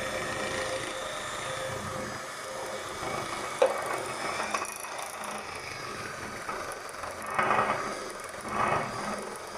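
Electric mixer whirring at its lowest speed while whisking tiramisù cream, a steady mechanical hum with faint rattling and occasional clicks against the bowl, moderately close throughout.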